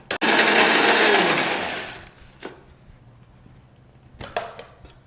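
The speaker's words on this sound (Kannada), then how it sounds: "ಇದನ್ನು ಕ್ಲೀನಾಗಿ ಮಿಕ್ಸಿ ಮಾಡಿ" An electric mixer grinder blending dry-roasted garlic cloves into a smooth paste gives a loud, close whirring burst lasting about two seconds and then winding down, followed by a few faint clicks and knocks.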